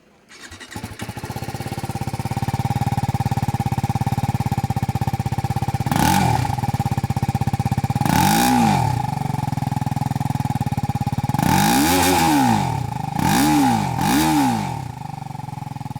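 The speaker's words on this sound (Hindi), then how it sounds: "अब देखते हैं कि ये बाइक साउंड कैसा करती है" A TVS Apache RTR 310 motorcycle engine starts and idles with a steady rumble, then revs sharply several times, the last few in quick succession.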